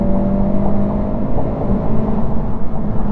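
Inside a 2021 Honda Civic cruising on the highway, a steady low road and engine drone with tire rumble filling the cabin, loud and unbroken.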